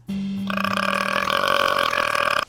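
A kid lets out one long, loud burp lasting about two seconds. It starts as a low, steady tone and then turns into a rough, raspy rumble, close up with no talking.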